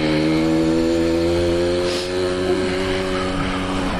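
An old two-stroke motorbike engine runs steadily close by, a loud buzzing drone with strong harmonic whine that wavers slightly in pitch.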